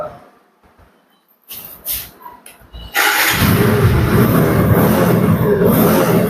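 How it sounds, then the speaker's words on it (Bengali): An Apache RTR 160 2V motorcycle engine starts after a second or so of quiet handling noises, then settles into a loud, steady idle that carries on close by to the end. "বাইকটি অন করে একটি বার"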